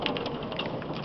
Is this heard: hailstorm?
yes